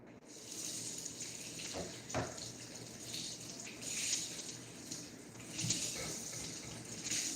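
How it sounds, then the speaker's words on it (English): Tap water runs steadily into a pot as it is rinsed out in a home kitchen during holiday meal prep, a continuous wash of flow with a few louder splashes and gushes, alone without talk. "So we shall rinse this out."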